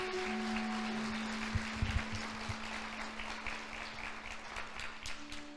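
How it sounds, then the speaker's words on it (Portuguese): A church congregation applauds during a prophetic Saturday service, a fairly faint, continuous spread of clapping heard at a distance over a steady hum and a few low thumps. "Dê um forte aplauso a Jesus"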